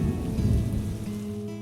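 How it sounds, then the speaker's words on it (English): Heavy rain pours steadily in a stormy thunderstorm, a dense hiss of downpour with a low rumbling undertone, heard alone and fairly loud for a brief moment. "The weather was stormy, and it had been raining heavily since midday."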